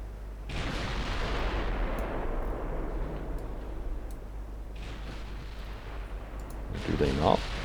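Battleship turret guns fire in Ultimate Admiral: Dreadnoughts, where a rear C turret shoots over the B turret. A heavy boom rolls off into a long rumbling decay, followed by a fainter second blast and a late burst, with a voice underneath.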